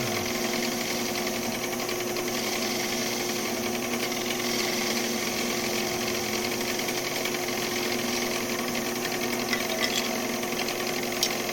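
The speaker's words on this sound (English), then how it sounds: "Give myself a drill hole or a pilot hole to drill, center the drill bit." A drill bores a pilot hole into wood on a woodturning lathe with a continuous, steady mechanical whir and hum, close and unbroken, with no talking.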